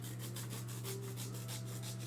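Fursuit foam being cut with a zigzag sawing stroke, a soft, rhythmic rasping in quick back-and-forth passes, faint and close over a steady low hum.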